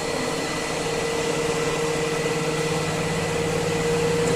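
A Hidro Özçelik 9-piston hydraulic pump under test runs at high pressure with a steady, close mechanical whine and hum, a constant tone holding unbroken throughout.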